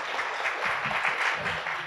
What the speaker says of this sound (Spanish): Brindamos un fuerte aplauso a las primeras expositoras.